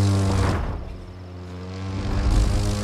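A propeller airplane engine drones loud and steady in The Crew 2 racing game, its pitch and intensity dipping briefly before swelling again, with no talk.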